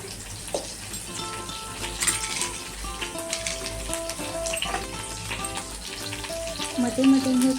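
Aubergine and spice paste of chilli, ginger and garlic frying in oil, a steady close sizzle with metallic clinks and scrapes of stirring against the pan, a little tonal background sound mixed in.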